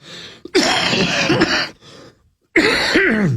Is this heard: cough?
yes